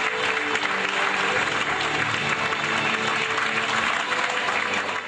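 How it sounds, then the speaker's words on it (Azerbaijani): Audience applause at a poetry recitation contest final in Sheki, loud, dense clapping from a full hall that holds steady without pause. "həm də dinləyənlərdən böyük alqış aldılar"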